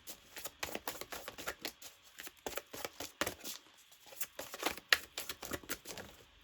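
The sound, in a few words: drawing tarot cards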